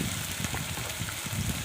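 A spice paste of ginger, garlic, onion and green chilli hits a hot pan for a Bengali boal fish dish, giving a steady, close crackling sizzle.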